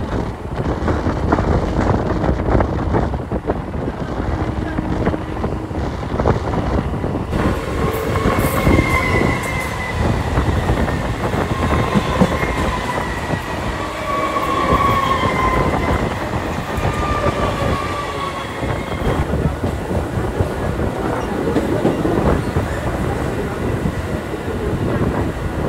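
A local train on the Katwa–Sealdah line rolls near Titagarh station with a loud, continuous rumble of wheels on rails, squealing tones rising and fading as it runs, and wind buffeting the microphone.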